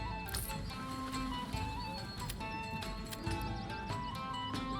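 Horse neighs and clip-clopping hooves from the medieval city-builder Manor Lords, a whinny rising over steady rhythmic hoofbeats amid a busy musical game soundscape, with no talk.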